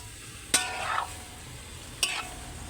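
Pork paklay stirred in a cooking pan: two distinct scraping clacks about a second and a half apart over a soft, steady sizzle.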